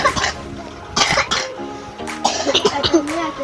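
Several coughs and throat-clearing bursts come from someone at a sister's birthday gathering, close and fairly loud, scattered across a few seconds with voices chatting around them.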